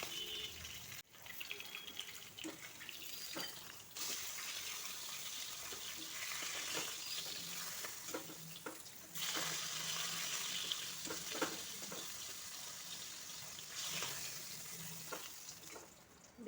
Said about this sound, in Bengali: 3টি মাছ একসঙ্গে আমি হালকা ফ্রাই করে নিচ্ছি